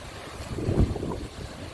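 Ocean surf and sea wind at a Cuban shoreline, a broad low wash of waves rising to a swell near the middle and fading, with steady wind rumble on the microphone and no speech.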